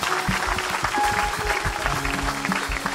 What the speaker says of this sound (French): Let's give a hand clap to the Lord.